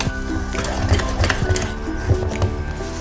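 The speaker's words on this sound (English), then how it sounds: "I'm just going to dump in all the dry ingredients and just mix this with a whisk" A whisk clatters rhythmically against a bowl as dry ingredients for a Fijian steamed coconut pudding cake batter are mixed, with quick repeated scraping and tapping strokes heard up close.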